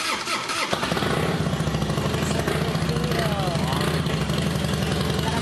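A loud custom motorcycle engine fires up and runs with a steady, throbbing rumble and revs close by, filling the whole stretch.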